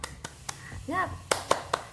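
A primary school class does a rhythmic spirit clap, with a few sharp, evenly spaced hand claps and a short burst of children's voices in the middle.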